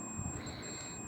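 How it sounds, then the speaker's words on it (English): A buzzer tone from a continuity tester checking the wiring of a steam clothes iron during repair, a thin steady high beep held throughout against a low background hum. "there's a buzzer"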